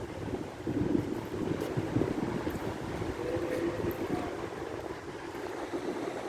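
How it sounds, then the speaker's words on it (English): A constant low rumble of traffic passing on a bridge overhead, heard from the Water of Leith Walkway below, heavy and echoing, with no voices. "All the traffic thundering across, going to different places."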